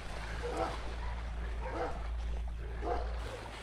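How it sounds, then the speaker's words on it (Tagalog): Dogs, including a Doberman, bark at a distance behind an island property, three spaced, muffled woofs over a steady low hum and faint ambient noise. "Ang dami palang aso dito sa likod."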